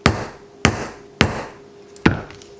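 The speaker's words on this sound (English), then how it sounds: "just hammering that into place" A hammer strikes a soft brass rivet into a leather belt four times at a steady pace, each blow sharp, close and loud with a short ringing decay, and no talking.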